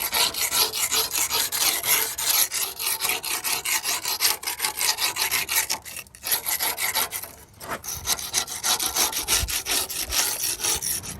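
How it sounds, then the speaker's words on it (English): A 5-in-1 painter's tool scrapes the rear end of a Kenworth truck, a harsh, continuous rasping close to the microphone with rhythmic strokes and short breaks. "Time to start scraping."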